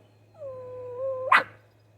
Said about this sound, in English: Couple dogs playing on the ground.